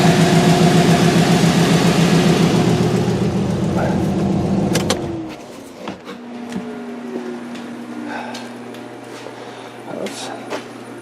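A vehicle engine runs loudly for about five seconds, then cuts out, leaving quiet background with scattered clicks and faint noises.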